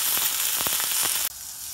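Leeks sizzle on a hot grill with a bright, crackling hiss and small pops, a short burst that cuts off abruptly into quieter background.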